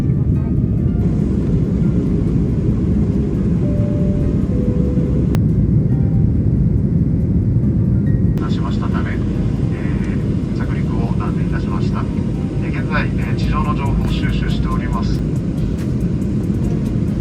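Airplane cabin on approach to Hachijojima airport amid turbulent mountain winds, a loud steady engine roar throughout with people talking over it.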